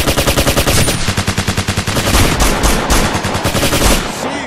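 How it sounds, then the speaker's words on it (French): Sustained automatic gunfire from a battlefield in Operation Flashpoint: Dragon Rising, loud and rapid bursts rattling continuously at close range with dense overlapping shots. "On nous tire dessus!"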